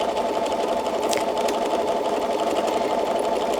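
A sewing machine doing free motion quilting runs steadily at close range, a continuous loud mechanical whir with a fast stitching rhythm and no pauses.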